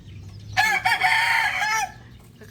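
A rooster crows once in a backyard, one loud close call lasting about a second with a rising, strained tone, with soft clucking and yard ambience around it.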